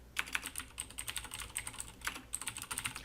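A computer keyboard is used to type a website link in a quick run of light keystrokes, close and fairly quiet, with a few short pauses and no talking.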